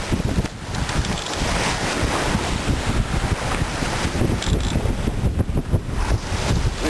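Short, tight ocean swell slapping against a sailboat under way in trade winds between Cape Verde and the Canaries, with continuous rushing water and wash along the hull over steady gusting wind noise.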